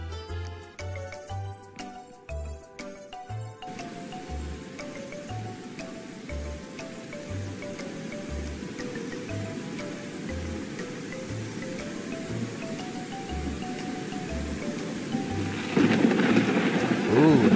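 Heavy rain and a thunderstorm in the Ranch Simulator game make a steady, dense downpour hiss that swells louder near the end, with game music and a repeating low beat underneath.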